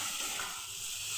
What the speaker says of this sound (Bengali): এবার মাছগুলো ছেড়ে দেবো।